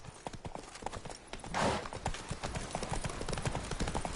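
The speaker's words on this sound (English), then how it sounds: "Wait, Roach, where are you at? Giddy up." Horse hooves in The Witcher 3 clip-clop in a steady rapid rhythm throughout, with a louder rustling burst partway through and no talking.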